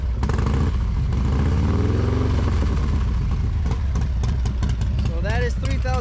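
Harley-Davidson motorcycle with a Stage 2 475c engine revved to about 3,000 RPM, measured three feet from the exhaust: a loud, steady rumbling drone that rises and holds, with a person talking over it.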